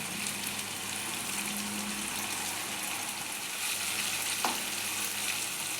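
Tomato and curd gravy for a chicken liver curry frying in oil makes a soft, steady sizzling hiss with one brief scrape partway through, quiet and close, with nobody talking.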